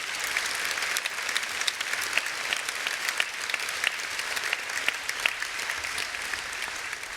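Continuous audience applause in a large hall at the UNISON 2024 union conference, steady and dense, with some sharper individual claps standing out and no speech.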